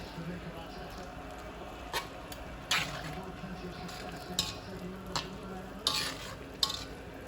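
Tomatoes frying in a pot for a meatless Jamaican liver-and-kidney style breakfast, with soft steady sizzling and several sharp spoon-on-pot clacks and scrapes as they are stirred.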